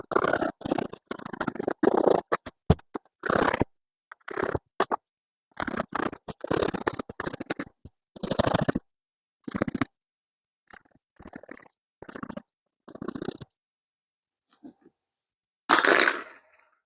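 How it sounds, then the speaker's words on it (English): A hacksaw blade cutting through motorcycle seat foam in a string of short, scratchy strokes separated by silent pauses, close and fairly loud. "I use the hacksaw blade to cut the foam"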